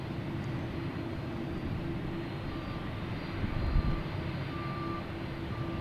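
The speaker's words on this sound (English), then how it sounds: "Another plane just shimmied and got my attention again." An airplane passes at Boston Logan Airport with a constant broad engine roar that swells slightly partway through, heard from a distance outdoors with no talking.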